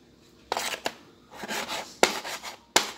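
Chicken gizzards being chopped with a knife on a board, several sharp separate chops with scraping rubs between them, close and clear, no talking.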